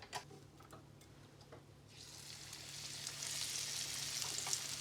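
Cornflake-coated chicken tenders, KFC style, hiss and sizzle as they go into hot oil, the frying swelling from a light crackle to a steady, dense sizzle up close, with no voices.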